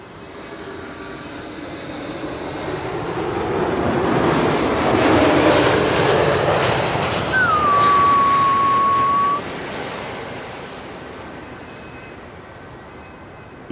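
An Embraer E195-E2 airliner arriving from Brussels on the Kaagbaan at Schiphol swells from a distant hum into a broad engine roar, peaks overhead with a faint whine, then fades away.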